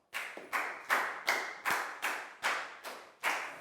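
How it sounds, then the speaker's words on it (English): Clapping in a Year 4 science lesson classroom: eight sharp, evenly spaced claps in a steady rhythm, each ringing briefly before the next, fairly close and with no talk over them. "Big round of applause for Nadia, guys."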